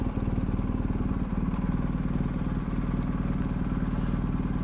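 BMW R1250 GS Adventure TE Triple Black Edition idling up close, a steady rapid boxer-twin throb with a light mechanical clatter, loud and unbroken throughout.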